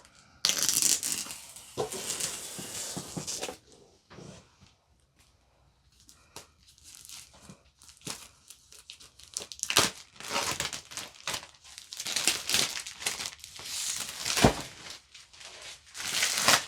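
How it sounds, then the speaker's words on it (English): Plastic packaging from a Diamond Art Club package crinkles and tears loudly up close in irregular bursts, with a quieter pause midway before the rustling resumes. "plastic warning, turn down those earbuds because this could get quite loud"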